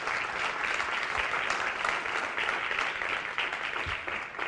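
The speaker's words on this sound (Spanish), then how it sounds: "Denle un aplauso fuerte al Señor." A church congregation breaks into loud, sustained applause praising God during a Spanish-language sermon, dense clapping with scattered cheers and no pause throughout.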